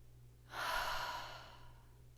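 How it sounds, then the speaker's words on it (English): A single deep breath in a seated yoga session, one long soft airy exhale that swells quickly, then fades slowly, close and quiet against a faint hum. "we'll take a nice deep inhale and an exhale to let it go"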